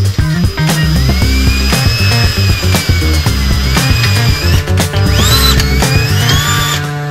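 A power drill bores through a broken bolt, its whine rising and dipping in steady, close, loud bursts with no talking over it.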